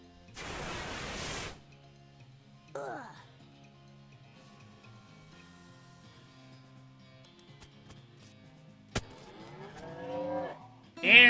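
Cow mooing from a floating cow skull enemy in West of Loathing, heard as a loud blast at the start, then a short low call midway and a longer drawn-out moo at the end, separated by quiet musical ambience.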